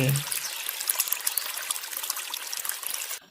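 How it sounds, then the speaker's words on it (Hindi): In a cartoon, a bucket of hot water is poured into an air cooler, giving a close, steady splashing trickle that runs for about three seconds and then stops abruptly. "बाल्टी का सारा गर्म पानी वे मीनू चिड़िया के कूलर में डाल देता है"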